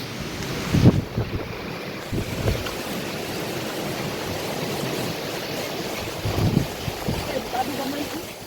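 Strong wind roars steadily against the microphone, broadband and buffeting throughout, with seawater sloshing at a beach and a few brief voices underneath.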